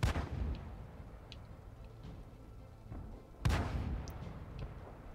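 A tank fires blind shots in a combat video game, giving two booming cannon reports a few seconds apart, each fading into a low rumbling tail under background noise.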